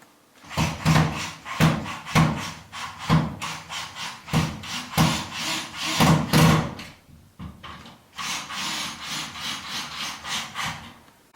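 Electrical box being screwed into a plasterboard partition wall, with a string of close, rough wooden rubbing and grinding strokes in quick irregular bursts, then a steadier grating stretch toward the end.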